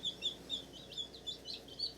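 Faint, high peeping from a group of newly unboxed baby chicks, quick repeated chirps over a soft, steady background hiss.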